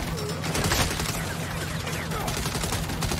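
Gunfire in Saints Row, a loud, close volley of rapid shots layered over a low rumble, continuous for a few seconds.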